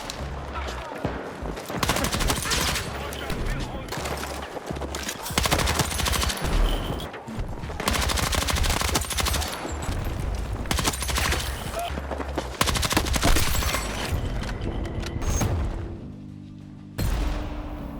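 Rapid automatic gunfire and bursts with booms in the video game Battlefield 6, played on PC with a Beitong KP70 controller; dense, loud, continuous fusillade filling the scene.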